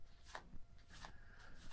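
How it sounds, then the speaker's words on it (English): A deck of playing cards being shuffled from the top by hand during a card magic trick, with brief close riffling and flicking bursts over a quiet background. "what you can actually do is shuffle all that you want from the top like this"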